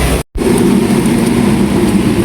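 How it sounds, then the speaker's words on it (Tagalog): Rain falls by the seaside as a dense, steady hiss with a low rumble, close and loud, interrupted only by a brief dropout near the start. "Ayan po, bali umuulan po dito."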